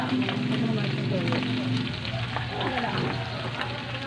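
Beef frying with garlic and onion in a pan, a steady loud sizzle with crackling spatters that continues throughout while a person talks over it.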